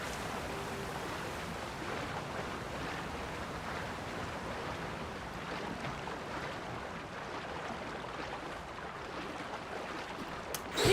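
A waterfall in the video game Zelda: Tears of the Kingdom rushes steadily and loudly, a dense continuous wash of falling water with no pauses or voices.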